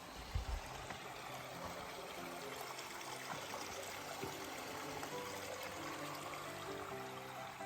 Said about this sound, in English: Crossing of James Creek here. It's got some water.